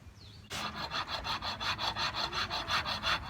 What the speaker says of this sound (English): to shape the scales, I'm just using a farrier's rasp